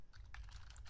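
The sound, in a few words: typing code on a computer keyboard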